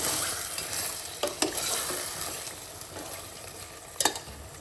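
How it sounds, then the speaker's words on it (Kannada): Mutton sizzles in a pan after turmeric powder and salt go in, a steady close frying hiss broken by a few scraping stirs with a utensil. "ಮಟನ್ನ ಒಗ್ಗರಣೆ ಮಾಡೋಣ. ಸ್ವಲ್ಪ ಅರಿಶಿನ ಪುಡಿ, ಉಪ್ಪು ಎಲ್ಲ ಹಾಕೋಣ."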